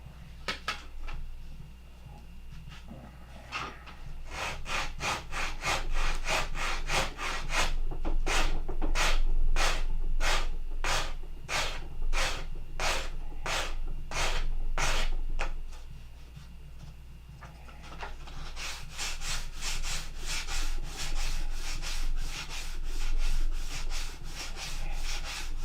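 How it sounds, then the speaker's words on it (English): Sandpaper rubs back and forth on a horn clip in rapid, even strokes, a long run of close scratchy passes with a short pause near the start and another burst toward the end, and no talk. "so we got to keep sanding"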